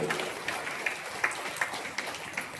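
An audience applauds in a hall, giving a faint, steady patter of clapping with a few sharper claps standing out over about two and a half seconds.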